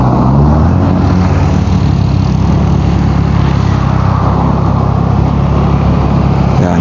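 Steady, loud rush of fast cars and other traffic passing along a highway, a continuous engine and tyre roar that never lets up, with no voices over it.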